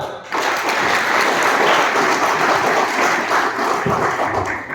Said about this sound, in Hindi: उसके लिए सभी पर जोरदार तालियां